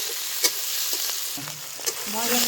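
Spice masala of cloves, cinnamon, dried red chillies, bay leaf, onion, garlic and ginger fries for mutton curry with a close, bright sizzle. A couple of quick stirring scrapes cut through the crackle, and nobody talks.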